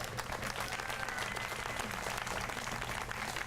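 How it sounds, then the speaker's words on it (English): An audience applauds at a Hispanic Heritage Month celebration in Albuquerque, giving dense, sustained clapping that fills the whole stretch at an even level. "let's give them all a round of applause"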